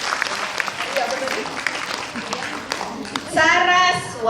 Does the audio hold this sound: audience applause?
yes